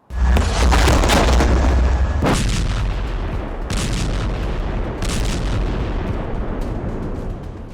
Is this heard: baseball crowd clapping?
no